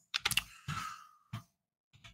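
A few quick keystrokes on a computer keyboard tap out in short clustered bursts, close and quiet, with gaps of silence between them.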